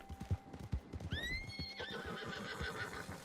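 A horse in the video game Red Dead Redemption gives a loud rising whinny while hooves clip-clop steadily underneath, the neigh sliding down and trailing off into continued footfalls.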